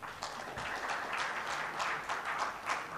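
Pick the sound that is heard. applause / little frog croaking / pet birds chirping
applause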